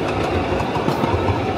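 Mini Thomas and Friends ride-on train rolling at Pier 2 Art Center in Kaohsiung, Taiwan, a close steady rumble of wheels and motor for a brief moment, no voices.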